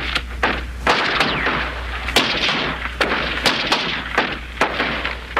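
Sharp gunshots from a faulty gun crack out one by one at irregular intervals, about ten in all, close and loud over a steady low hum.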